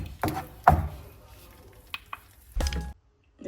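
Cooked chicken tipped into a pan of curry masala with green chilies: short bursts of close sizzling and stirring scrapes, separated by quieter gaps, then a final loud sizzle burst before fading.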